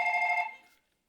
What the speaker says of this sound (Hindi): ओ ब्रो मेरा फोन आए